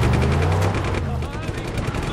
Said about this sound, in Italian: Scommetto che il cannone funziona ancora.